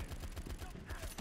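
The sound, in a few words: gunfire in video game World War 2: Battle Combat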